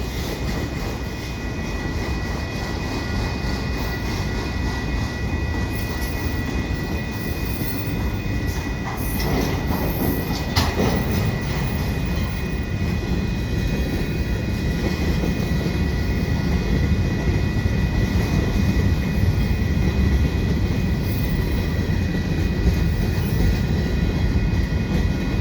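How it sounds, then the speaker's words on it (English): A long northbound freight train rolls through the Des Prairies Boulevard level crossing in Laval, Quebec, as a loud, continuous close rumble of wheels and rail cars that fills the whole stretch without letting up. "It is a long freight headed up to Sainte Theresase,"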